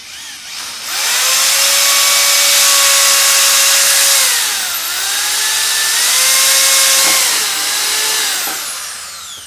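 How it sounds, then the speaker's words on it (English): A power drill bores rivet holes into an RV dump hose holder, whining loudly and steadily for several seconds, dipping briefly in pitch as it bites in, then running on strongly before winding down. "Should I drill one, put the rivet in, drill the second one, put the rivet in?"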